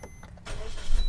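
A family car's engine starts by push button, a short rise into a close, low rumble that swells toward the end, with no talking.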